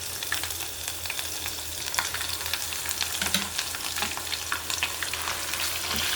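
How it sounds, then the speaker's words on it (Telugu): Ginger garlic paste fries in a pan, sizzling steadily at close range, with faint stirring scrapes over the continuous crackle. "పచ్చివాసన పోయే వరకు వేగించుకోవాలి."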